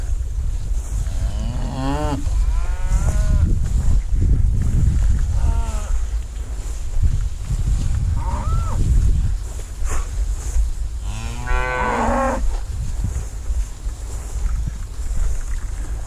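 Cattle moo repeatedly while being herded into a polywire catch pen, with long, loud, wavering lowing calls over constant wind rumble outdoors.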